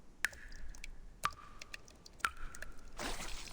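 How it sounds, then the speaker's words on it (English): Water dripping in a motel room in the Reverse: 1999 game, Haunted Highway event: three clear, ringing plinks spaced about one second apart, each fading with a short echo, followed by a soft rushing wash at the end. "Sounds like dripping water."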